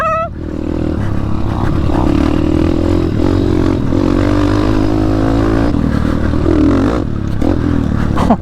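A YCF pit bike motorcycle being ridden, its engine revving loudly and continuously up close with rattling clatter throughout.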